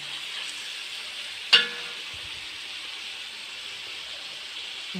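Onions fry for a beef curry with a steady, close sizzling hiss, broken once by a single sharp clink of a utensil against the pan.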